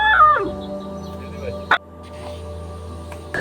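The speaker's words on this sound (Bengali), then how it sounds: "হাঁস মুরগি দিয়ে ভরা।" Chickens and ducks roaming a village neighbourhood in the late afternoon, giving short clucking calls at moderate distance, mixed with other tonal background sounds and one sharp knock partway through.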